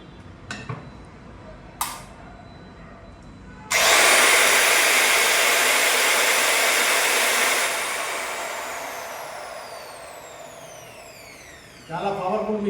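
A Maktec by Makita MT410 marble cutter spins up with a sudden loud, steady whine after a couple of knocks, runs for several seconds, then slowly winds down before a brief clatter at the end.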